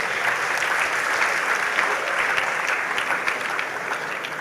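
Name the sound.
students applauding at graduation ceremony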